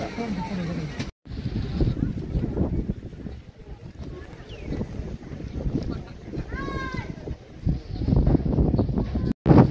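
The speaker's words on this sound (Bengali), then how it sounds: "পুরো ঝড় উঠেছে মনে হচ্ছে।" Strong wind blasting through fog at Batasia Loop in Darjeeling, a steady loud roar of gusts buffeting the microphone, with people talking at times over it.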